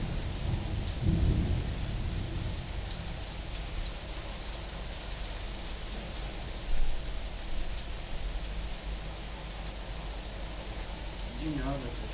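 Thunderstorm with lightning and steady rain, a low roll of thunder early on and another rumble later, rain hissing continuously throughout.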